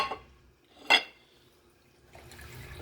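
A metal fork drops into a kitchen sink with a single sharp clatter, followed by faint running water at the end.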